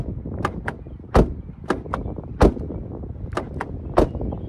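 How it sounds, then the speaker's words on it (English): A GWM Tank 300 Ultra's car door is shut several times, each close giving a heavy, solid thump with lighter clunks and clicks between, loud and near with no talking. "Everybody likes the old door sound check in a car"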